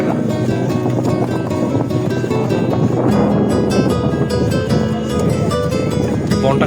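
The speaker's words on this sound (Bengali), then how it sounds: "ও সেই বাতাস ভাই, এসি লাগবে না।" Wind rushes past during a cable car ride in a park, a loud, constant buffeting roar across the microphone with no pauses.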